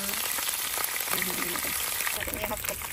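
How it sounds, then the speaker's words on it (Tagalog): Chicken frying in hot oil for tinolang manok, a steady dense sizzle that runs the whole time at close range, with faint stirring scrapes and bits of background noise. "Ito na yung oil ng chicken. So, dito naman natin nilituin."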